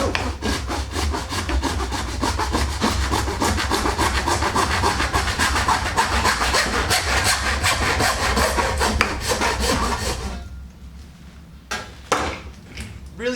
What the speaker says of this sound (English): whenever you're cutting pipe, you're going to have some little plastic burrs around here